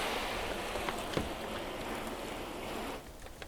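A shower of water sprays over a car's coated paint as a steady broad hiss, close and even, easing off slightly near the end.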